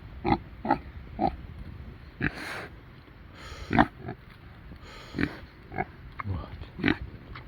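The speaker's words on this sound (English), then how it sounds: "Hey, Kune Kune piggies" A Kune Kune pig grunts close by in a series of short, irregular snorts and oinks, some louder than others, with brief quiet gaps between them.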